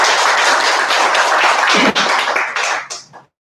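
A church congregation applauding, loud dense clapping from many hands that holds steady and then tapers off into a few last claps.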